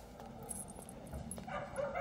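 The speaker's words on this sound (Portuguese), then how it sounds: "Meu amigo aqui gostaria de adotar esse cachorrinho." A puppy gives soft, faint yips and whimpers in short bursts at a moderate distance against quiet background noise.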